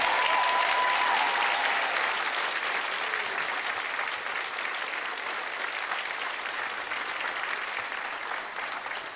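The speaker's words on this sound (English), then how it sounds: "Let's give them a round of applause." Sustained applause from a large crowd, loud and even throughout, gradually easing slightly toward the end.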